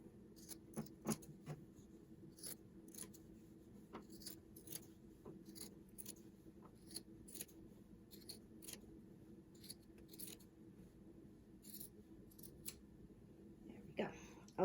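Scissors cutting an old T-shirt into strips for a reusable bag craft, a series of crisp, irregular snips spaced through the stretch, close and moderately loud over a quiet room hum, with no talking.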